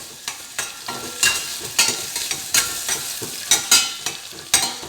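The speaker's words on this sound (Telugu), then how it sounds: "నార్మల్గా కొంచెం ఘాటు పోయినంత వరకు ఫ్రై చేసుకొని అయినా సరే మనము ఎగ్ ఫ్రై చేసుకోవచ్చు" Egg sizzles as it fries in a pan on high heat while a utensil stirs it, with steady frying hiss and regular scraping strokes roughly twice a second, close and fairly loud.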